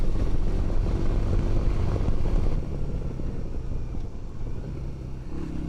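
A Yamaha Virago 250 motorcycle is ridden on a road, its engine droning steadily under load with a drop in pitch and loudness around a gearchange, all heard from the rider's position with continuous wind rumble and no talk.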